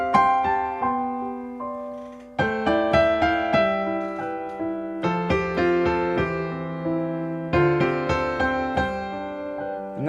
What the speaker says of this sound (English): the final technique is what I call the power harmony technique